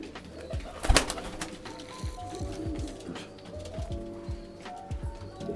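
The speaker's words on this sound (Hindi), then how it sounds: "ये अली वाले कबूतर" Pigeons coo in low, repeated throaty calls against a busy background, with a brief louder knock near the start.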